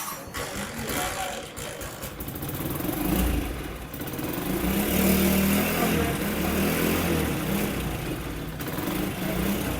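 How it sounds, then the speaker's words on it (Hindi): A Honda CD 70 motorcycle engine idles with the choke raised, a close, steady low putter with slight swells in loudness that runs without break. "अब जैसे ही इस बाइक की हम चौक ऊपर उठाते हैं तो बाइक स्टार्ट रहती है।"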